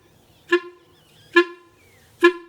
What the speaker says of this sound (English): what we're aiming for here is the shortest, choppiest note possible